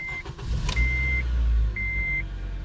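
A car engine cranks and catches right after an oil change, then settles into a loud, steady idle under two long high dashboard warning beeps.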